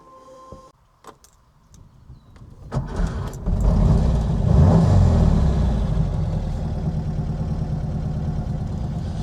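A 1965 Porsche 912 starts up with clicks and clunks, then the engine catches and pulls away, a loud, close rumble rising and settling into a steady drone.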